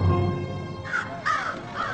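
Crows give about three harsh caws in quick succession over a low background drone, clear and fairly close.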